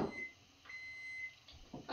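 A kitchen oven, preheating for meatloaf, gives a faint, steady, thin electronic beep held for about half a second, with brief voices just before and after.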